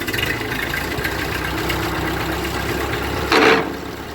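A Ford 2N farm tractor idles with a steady low chugging, loud and close, joined by a short clunk near the end and no talking.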